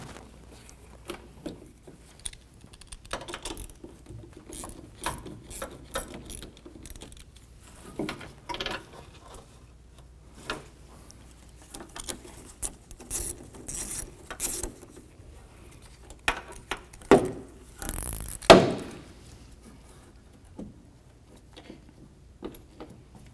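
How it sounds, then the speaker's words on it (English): A 10mm socket ratchet loosens the battery terminals on a 2007-2014 Cadillac Escalade, giving sparse quiet clicks and metallic taps with brief handling clatter, close up with no speech. "Using a 10mm socket, disconnect both terminals on your battery."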